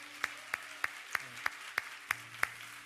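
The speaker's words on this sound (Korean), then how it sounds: "다시 한번 격려의 박수, 감사의 박수" Eight evenly spaced single claps ring out in a church setting, sharp and fairly faint over a low steady hum, each one separate and about a third of a second apart.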